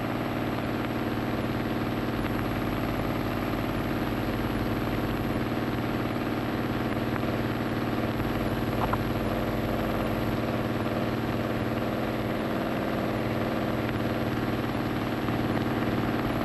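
Steady, continuous drone of an Ilyushin Il-2 ground-attack aircraft's piston engine held at reduced throttle around 1600–1700 rpm, a low heavy hum with faint throb running unbroken and without speech.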